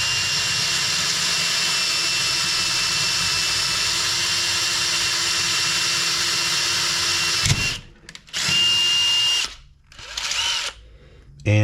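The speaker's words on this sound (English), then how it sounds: "I'm going to drill the head of the second pop rivet" A power drill bores out the head of a pop rivet with a loud, steady high-pitched whine, then stops and restarts in short bursts near the end.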